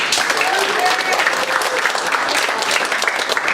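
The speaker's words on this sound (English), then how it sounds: "let's get a round of applause for Team No Girls Allowed" Lively audience applause at an improv comedy show, dense clapping and crowd noise that is loud and sustained throughout, with faint voices mixed into the crowd.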